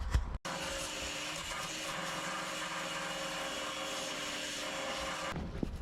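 A power grinder sands down epoxy on a boat's anchor locker floor, giving a loud, steady abrasive whine that runs for several seconds after a brief quiet start.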